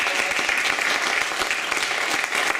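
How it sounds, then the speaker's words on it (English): Small audience at a noontime jazz trio concert claps for the bass player, a moderate, even patter of many hands heard close and steady for a few seconds. "Let's give him a round of applause."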